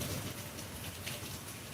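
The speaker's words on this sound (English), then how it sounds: "It's raining again, huh?" Steady rain falling outdoors, a continuous hiss of drops with no voices over it.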